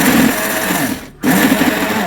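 A mixer grinder loudly whirs and churns grated coconut for a sardine fish curry, running close and continuously except for one brief pause before starting up again, with no voices.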